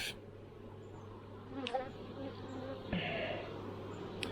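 Honey bees buzzing around a Langstroth hive full of honey, a steady soft hum with a few louder passes of individual bees, fairly faint and close, with no talking.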